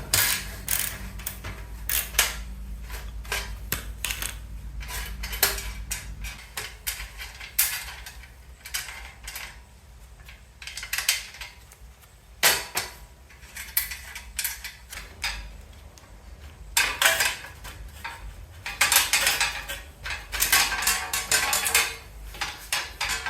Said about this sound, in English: We've got a 11/16 socket and an adjustable wrench on the other side.